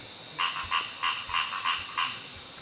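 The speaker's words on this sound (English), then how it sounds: "it's important to know all the different calls of a frog that you're looking for" A frog calls with a series of about six evenly spaced, rasping croaks, clear and fairly close over quiet background noise.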